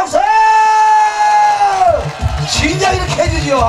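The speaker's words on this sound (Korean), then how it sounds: "함성과 박수!" At an outdoor food-festival stage show, a performer holds a long drawn-out shout, then the crowd answers with cheering, whoops and clapping, loud and close with scattered shouts.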